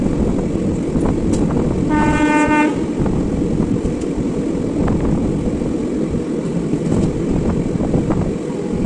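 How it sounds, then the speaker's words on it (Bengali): New Delhi–Howrah Rajdhani Express rushing past with a steady loud roar of wheels on rails, a short horn blast sounding near the start. "দেখা হবে ট্রেন নাম্বার 123-02 নিউ দিল্লি থেকে হাওড়া রাজধানী এক্সপ্রেস"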